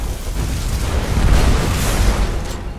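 A loud explosion in the video game Skyrim with a deep, sustained rumbling roar that fills the whole moment without letting up.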